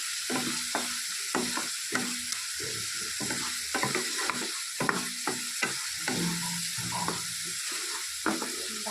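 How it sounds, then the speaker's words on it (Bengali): A ground paste of garlic, onion and green chili fries in a pan for an egg curry, with a constant bright sizzle under a brisk run of spatula scrapes and knocks against the pan, close and unbroken. "ভালো করে মশলাটাকে কষিয়ে নিতে হবে"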